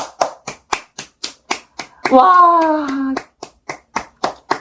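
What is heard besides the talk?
hand clapping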